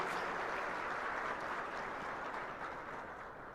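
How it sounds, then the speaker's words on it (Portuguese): A church congregation gives a round of applause, a faint, soft mass of clapping that sounds distant and gradually fades over a few seconds. "E dê para Jesus mais uma forte salva de palmas para Jesus."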